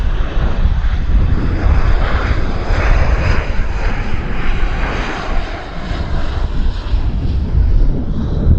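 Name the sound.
Airbus airplane engine at Vancouver airport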